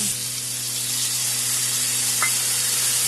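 Fish masala sautés in hot oil with turmeric and salt in a Bengali kitchen, giving a steady, close sizzle with a faint low hum underneath and one brief clink near the end.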